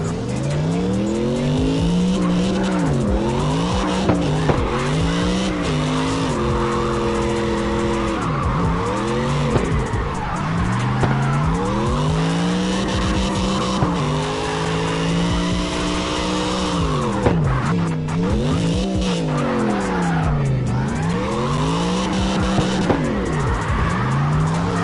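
Car engine revving and shifting through gears with repeated tire skids and squeals while drifting in the CarX racing video game, loud and continuous throughout with no talking.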